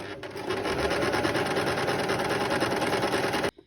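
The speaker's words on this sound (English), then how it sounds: "we just put our foot down on the pedal and start sewing" A sewing machine stitches fabric with a fast, even mechanical rattle, close and loud, stopping abruptly at the end.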